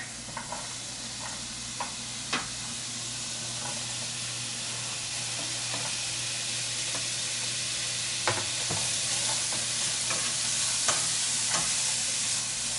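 One onion and half a green pepper sizzle in bacon drippings in a pan, a constant, even frying hiss broken by occasional sharp clicks and scrapes of a spoon stirring.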